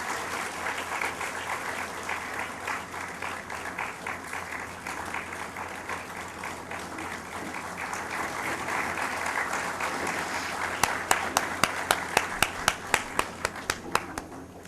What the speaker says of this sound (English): while this garlanding ceremony is going on, I wish let's keep on giving a great round of applause